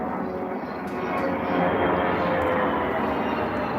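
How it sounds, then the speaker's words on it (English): Airplanes passing overhead make a steady, loud broadband roar that swells slightly midway and holds throughout, with no other clear sounds. "We got planes flying above."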